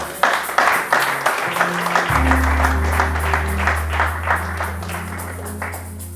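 A church congregation claps and cheers in praise of the Lord, rhythmic applause with sustained voices and music underneath, loud and full, filling the room for several seconds.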